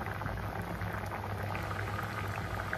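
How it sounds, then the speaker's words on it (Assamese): Hogweed greens curry with elephant apple bubbling at a steady, close boil in an uncovered pot, a dense continuous seething and popping with no voices. "এয়া চাওক শাকখিনি কিমান ধুনীয়াকৈ উতলি আছে"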